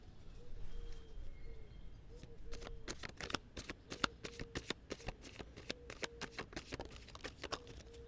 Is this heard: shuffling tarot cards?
yes